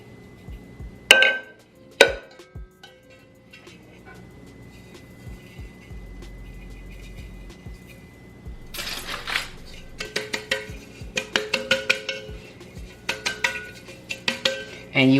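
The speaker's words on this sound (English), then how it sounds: "So I'm gonna add my sugar to the inside of the tube pan." Sugar rattles and clinks inside a metal tube pan as it is added and shaken around, first two sharp taps, then a busy stretch of gritty scraping and tinkling near the end.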